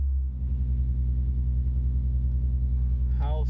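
A 1990s JDM car's engine idling close by, a steady low rumble throughout with a brief voice near the end.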